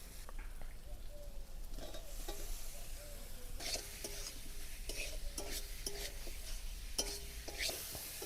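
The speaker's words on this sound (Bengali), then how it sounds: "ভাজা আলুগুলো দেওয়ার পরেও মশলার সঙ্গে খুব ভালো করে কষানো হয়ে গেছে" Fried potatoes stirred into spice masala in a pan, a steady soft sizzle with repeated scraping and clinking of a spoon against the pan at a close, quiet level.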